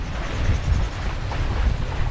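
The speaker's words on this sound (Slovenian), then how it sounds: "sva pri Brindisiju končno lepo začelo pihati" On a sailboat under way off Brindisi, a steady breeze of six to seven knots buffets the microphone with continuous rough, rumbling wind noise, mixed with faint water sounds and no talking.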